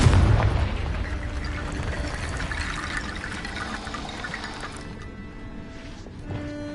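A Confringo blasting spell in Hogwarts Legacy goes off as a loud, booming explosion. A rushing, crackling tail fades over several seconds, then a smaller thump follows near the end.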